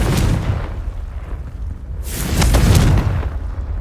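Confringo explosive spell in the video game Hogwarts Legacy, heard as a loud, dense rumbling blast with a sharp crackling burst about halfway through over a continuous game background.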